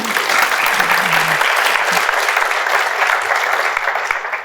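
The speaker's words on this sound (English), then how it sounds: "A round of applause for Haley." Continuous loud clapping from a conference audience at a product marketing summit in London, dense and even throughout with a brief voice underneath at the start.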